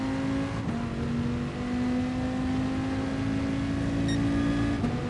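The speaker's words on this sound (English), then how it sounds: "You can rev out this car and it starts making this weird noise when you get to the top of the rev range" A race car engine in a racing video game is revved out to the top of its rev range, a steady sustained high engine whine with a faint extra buzzing tone, loud and unbroken.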